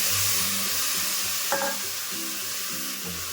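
Mutton with ginger garlic paste stirred in a hot pan, a dense sizzle with rhythmic stirring scrapes and a brief utensil clink partway through, close and steady.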